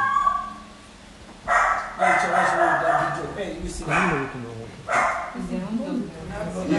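A dog barks repeatedly in loud, close bursts, with yips and whimpering howls between them, while people talk nearby.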